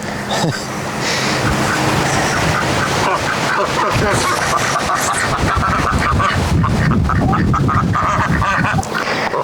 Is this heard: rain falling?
no